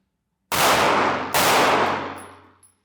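Two sharp, loud gunshots crack about a second apart during live-fire danger-close target training, each followed by a ringing decay.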